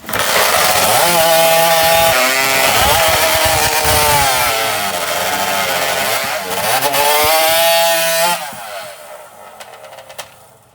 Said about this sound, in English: there's also pandemonium everywhere in hot saws. There's still live saws.